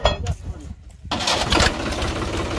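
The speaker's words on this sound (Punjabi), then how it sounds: "ਲਓ ਜੀ ਟਰੈਕਟਰ ਸਟਾਰਟ ਹੋ ਚੁੱਕਿਆ" A tractor engine cranks and catches beside a trolley loaded with sugarcane, then settles into a loud, steady diesel rumble. A voice is heard near the start.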